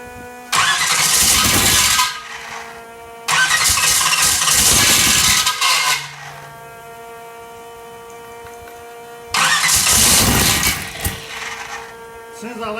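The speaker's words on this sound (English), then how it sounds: "As soon as I let go of the starter button, the thing turns off." An engine with blow-back through the intake cranks on its starter in three long grinding bursts, catching briefly and dying each time, with a steady electrical hum between attempts.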